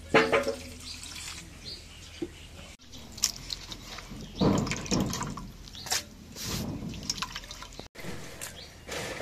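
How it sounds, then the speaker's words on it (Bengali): Small fish being washed by hand under running water in a home kitchen, with splashing, dripping and sloshing in irregular bursts close by and no talk. "এখন মাছগুলো ধুয়ে নেই।"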